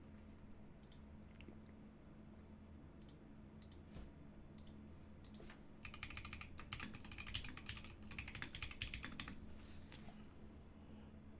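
Fingers type on a mechanical keyboard fitted with custom keycaps, sparse clacks at first, then a quicker burst of crisp keystrokes in the middle before it slows again, close and quiet with no talking.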